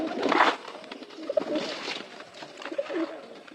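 Pigeons kept in a loft coo repeatedly while being fed, with soft, rounded calls rising and falling in bursts from close by and no talking.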